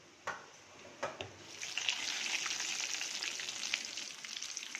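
Mustard seeds, cumin and asafoetida hit hot oil, opening with a few sharp pops before a dense crackling splutter builds and holds, close and busy, with intermittent louder snaps.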